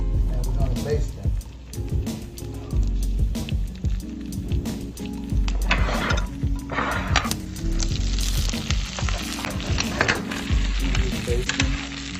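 Steaks sizzle and spit loudly in a pan as they are basted in a hot butter mixture, with steady frying crackle and occasional spoon scraping, while someone speaks over the noise.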